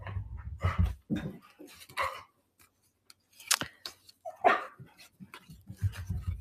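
Dogs barking and whining at home, short yelps and whimpers in scattered bursts with gaps of near silence, fairly close.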